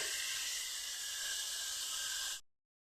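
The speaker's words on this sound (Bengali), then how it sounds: "দিয়ে আমি ভালো করে মশলাটাকে কষিয়ে নেব" Spice paste frying in oil in a pan, cooked for a Bengali soybean and spinach kofta curry, gives a steady, loud hiss of steam and sizzle with no talk, ending abruptly in silence.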